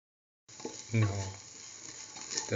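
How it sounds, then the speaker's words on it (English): Potatoes for crispy hash browns sizzle steadily in a hot pan, a soft continuous frying hiss with a brief louder stir near the start. "the potatoes are nicely fried and in a stir fried"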